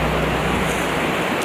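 A river rushes over a ford on the Cerro Castillo circuit in Patagonia, Chile, a broad steady roar of flowing water heard close and loud with no talking.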